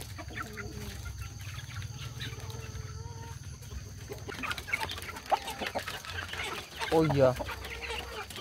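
Backyard broiler chickens of a non-white breed cluck softly and steadily beside a water gallon, growing louder and busier toward the end, with a brief spoken exclamation partway through.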